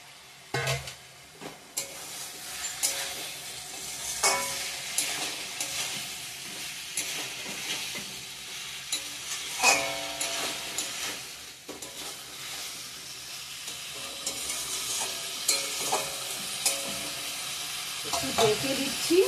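Fried cauliflower, potato and radish sautéed and stirred with rohu fish masala in a pan, giving a steady close sizzle with repeated scraping stirs and occasional utensil knocks throughout.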